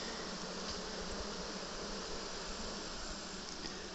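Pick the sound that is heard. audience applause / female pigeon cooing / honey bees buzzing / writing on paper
honey bees buzzing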